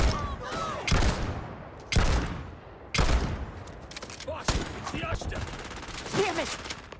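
Gunfire in the Starfield video game, sharp loud shots landing about once a second in a ragged sequence, each followed by a decaying tail, with a voice talking faintly in between.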